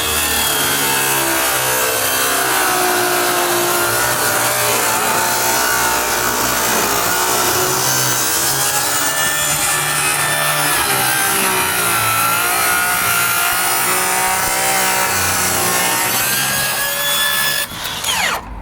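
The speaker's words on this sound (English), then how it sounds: "You ever made curves with a circular saw before?" A circular saw cuts curved lines through wood, a loud continuous whine and grinding rasp that holds steady for most of the stretch before stopping abruptly near the end, with no talking over it.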